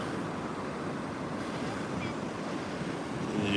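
Heavy surf pounds and rushes onto an eroding Delaware beach at Bethany Beach as Hurricane Erin passes offshore, a continuous roar of breaking waves mixed with gusting wind buffeting the microphone.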